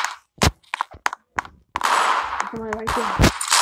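Gunfire in a first-person shooter video game: sharp, separate shots in the first half, then a louder, busier stretch of game action with more shots, and speech tagged faintly in the mix.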